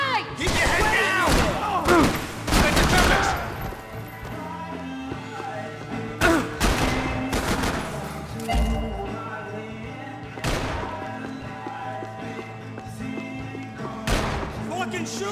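Loud gunshots crack out in Max Payne 3, several sharp bursts in clusters with gaps between them, close and punchy, alongside booming impacts.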